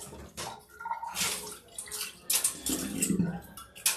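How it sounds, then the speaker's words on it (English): An ice lantern is rinsed under running water from a tap, giving an uneven splashing gush with occasional hard clinks of ice close by, rising and falling in bursts for several seconds without talking. "Give a little rinse."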